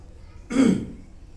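A single close throat-clear and cough, one short rough burst lasting well under a second in an otherwise quiet moment.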